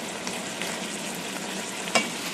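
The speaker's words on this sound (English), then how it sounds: "Now you've got to cook and stir that until the coleslaw mix is tender." Pork and bagged coleslaw mix sizzle in a pan while being stirred, producing a dense, even hiss with a single sharp utensil clack near the end.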